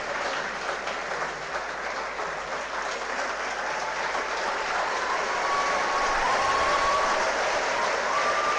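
Crowd clapping in welcome for a teacher at a civil services topper felicitation event, a continuous wash of applause heard at a distance that grows slightly louder toward the end, with a faint tone over it.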